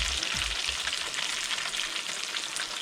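Snapper fish frying in a pan, a steady loud sizzle of hot oil crackling throughout with a few low thumps near the start.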